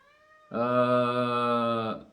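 One long, sustained meow starts abruptly and holds steady for well over a second before trailing off, close and clear against a quiet background.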